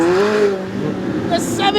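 A McLaren 765LT sports car accelerates on a crowded city street during a car meet, its engine note rising and falling loudly up close, with a voice talking over it.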